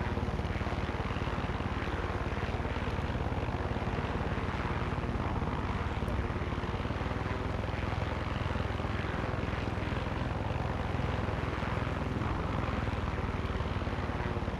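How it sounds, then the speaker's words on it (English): Steady engine drone of a helicopter flying in a video game, a loud, continuous broadband whir with a low rumble that holds unbroken throughout, with no voices. "Man, always seems to be really handy to have a helicopter."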